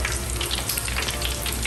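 Breaded food frying steadily in hot oil, a dense continuous sizzle and crackle filling the short stretch with no voices.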